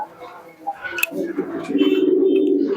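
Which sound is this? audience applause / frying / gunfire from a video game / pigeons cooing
pigeons cooing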